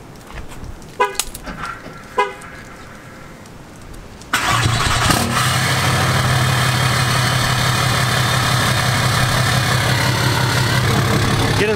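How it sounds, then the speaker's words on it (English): A few brief clicks and knocks, then the 6.7-liter Cummins diesel engine of a 2018 pickup truck starts and settles into a steady, loud, low rumbling idle that continues to the end. "we're going to leave this truck running"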